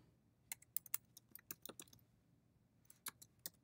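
Keys tapped on a computer keyboard while entering a command on an Ubuntu Server 14.04 install: a few quick bursts of crisp, close clicks with short pauses between, quiet and without talk.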